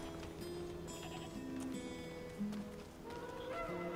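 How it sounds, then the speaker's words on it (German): Goats in Diablo 4 bleating in short wavering calls, faint and set against a quiet game backdrop with a few clopping hoof-like sounds and tonal ambience. "Die Ziegen sind außer Rand und Band."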